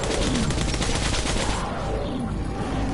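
Loud, rapid gunfire in the video game Metro Redux 2033, a dense burst of shots that fills the whole moment, close and forceful.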